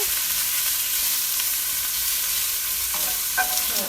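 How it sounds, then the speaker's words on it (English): Onions and garlic sauté over low heat in a pan for a pepper steak, giving a dense, continuous loud sizzle with a few faint utensil scrapes near the end. Heard close up, with no voices. "after our onions and garlic has been sauteing for about 2 to 3 minutes on low heat"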